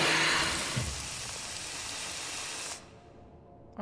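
Steam hissing in the horror game Monstrum, a loud, dense broadband spray that holds steady for almost three seconds, then cuts off abruptly, leaving a faint quiet tail and a brief burst at the very end.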